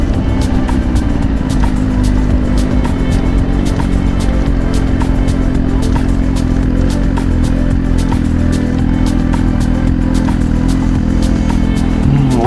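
Suzuki Gixxer 1000R sportbike cruising on a morning ride, its engine a loud, steady drone that runs throughout with slight shifts in pitch and no talking.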